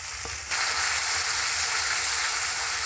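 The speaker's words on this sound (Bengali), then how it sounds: "ভালো করে নেড়ে চেড়ে কষিয়ে নেব সব কিছু একসঙ্গে" Spice paste with poppy seed and melon seed paste frying for doi katla, a loud hissing sizzle that swells suddenly and then holds steady, with faint stirring beneath, close by and no talking.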